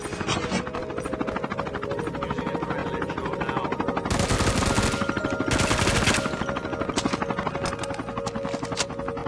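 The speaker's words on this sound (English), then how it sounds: "supply flight arrives." A supply helicopter arrives in the video game COD Mobile, its rotor thumping steadily and close while bursts of rapid machine-gun fire rattle over it, swelling into a heavier barrage midway.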